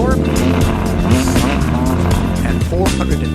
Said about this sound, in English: Compared to the S model, the exhaust note is muted.